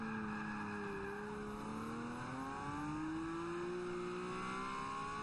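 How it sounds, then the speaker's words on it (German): Lamborghini Aventador engine in Forza Motorsport 5, a loud, steady high-revving roar with rising pitch as the car accelerates, continuous and close with no talk. "Aus YouTube-Videos weiß ich, dass sich der Aventador genau so anhört"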